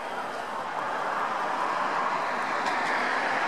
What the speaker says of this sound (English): And that's the train.